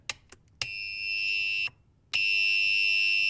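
A shrill electronic ringtone from a Snoopy novelty phone blares in two long bursts, separated by a short pause, preceded by a few clicks.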